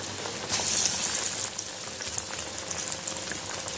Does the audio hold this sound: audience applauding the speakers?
no